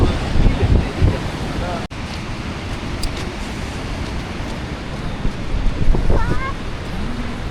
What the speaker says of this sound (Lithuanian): Fain ta jūra.